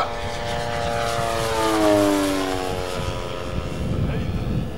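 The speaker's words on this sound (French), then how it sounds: "La motorisation est à la hauteur puisqu'il s'agit d'un King Boxer de 195 cm3." A fibreglass model airplane with a 3.3 m wingspan and a King Boxer 195 cc engine flies past at an air meet. Its propeller drone is loud and steady and rises in pitch and then falls as it passes, with no talk.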